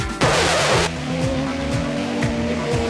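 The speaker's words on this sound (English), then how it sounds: "Watch bike 25 as he touches the brakes and down he goes." Racing motorcycle going down on a wet road after its front end gives way, a harsh scraping slide burst over a loud, steady engine drone with racing machines passing.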